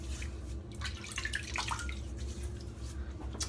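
Cold tap water splashing and dripping at a bathroom sink during a wet shave, scattered close splashes and drips over a steady running-water hiss, with no talking.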